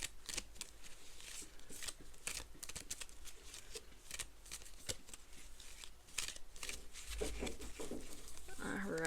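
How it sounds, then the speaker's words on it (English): A deck of Disney-themed savings challenge cards is shuffled by hand, with repeated crisp riffling and flicking bursts running steadily throughout at close range, loudest near the end. "So let's give it a shuffle."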